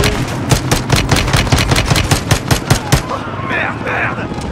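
Rapid machine-gun fire in Call of Duty: Modern Warfare II, loud sustained bursts of closely spaced shots for about three seconds, then stopping as other game sounds continue.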